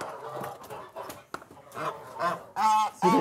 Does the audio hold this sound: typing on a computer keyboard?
no